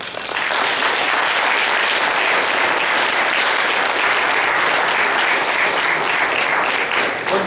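Loud, dense applause from an audience after a creationism debate, a steady sustained roar of many hands clapping with no pause throughout.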